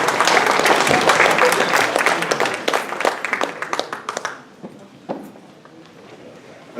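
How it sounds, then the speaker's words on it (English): An audience at a meeting breaks into loud, steady applause that tapers off into scattered claps before fading to quiet. "give him a big round of applause"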